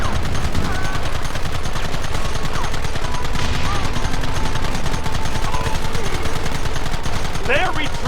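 Western gunfight in Red Dead Redemption, with a constant dense rattle of rapid shots over a busy, loud battle backdrop and occasional shouted voices.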